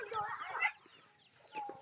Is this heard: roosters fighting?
yes